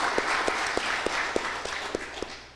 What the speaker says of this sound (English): let's give another round of applause to all the student volunteers